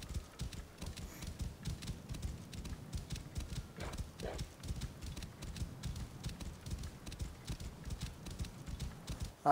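Horse hooves clip-clop steadily in Assassin's Creed Origins, a continuous rhythmic patter of moderate loudness with a brief whinny-like cry in the middle.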